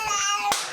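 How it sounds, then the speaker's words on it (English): A single sharp hand slap of a high five lands near the end, short and crisp, following a brief stretch of ringing ambient tone. "High five mid-action."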